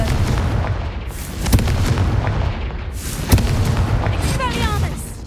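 A Confringo blasting spell going off in the Hogwarts Legacy video game: two deep booming explosions a couple of seconds apart within a loud, rumbling game soundscape, with a voice heard over the action.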